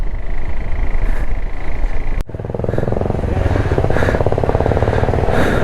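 Motorcycles roaring past on a road near Pokhara, loud and close, engines droning steadily with a brief drop in the middle before more bikes rumble by.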